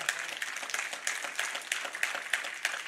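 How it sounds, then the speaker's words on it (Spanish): A church congregation claps in praise, a rhythmic, fairly loud burst of hand claps in a steady beat. "Dele un aplauso fuerte al Señor"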